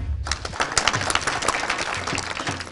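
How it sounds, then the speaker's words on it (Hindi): Audience applause at a farmers' award ceremony on a Pakistani agricultural TV show, steady dense clapping that starts abruptly and continues throughout. "जी, बहुत तालियां"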